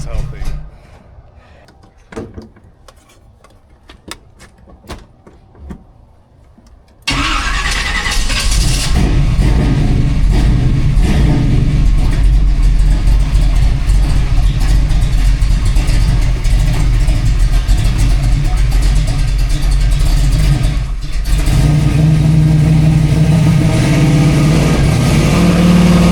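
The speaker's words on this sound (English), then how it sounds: "we're trying to do a burnout right now" Quiet clicks and shuffling, then a Nova's engine suddenly roars to a loud, sustained high rev during a burnout, holding steady with a brief dip near the end.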